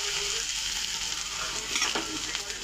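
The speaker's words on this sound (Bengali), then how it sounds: "এই যে এতে আমি এখন দিয়ে দিলাম একটু হিং ফোড়ন, তারপরে দেব এই যে ফুলকপিটা" Cauliflower florets dropped into hot oil tempered with asafoetida, sizzling for a cauliflower kachori filling; a steady close, bright frying hiss with a faint stirring scrape partway through and no talking.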